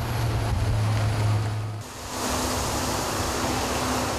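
Fireboat 1, a Victoria fireboat, running its twin 380-horsepower Cummins diesel engines at speed in open water, a steady loud roar with hull and water rush, the engine tone shifting partway through.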